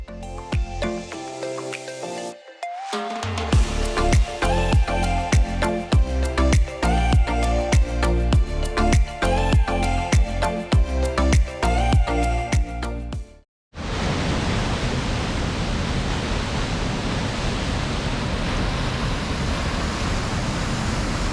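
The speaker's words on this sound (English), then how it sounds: "Down to the bottom of the Mossy Cave Trail waterfall." At the Mossy Cave Trail waterfall in Bryce Canyon, a steady, dense roar of rushing water fills the scene, loud and close, without pause after a brief break in sound.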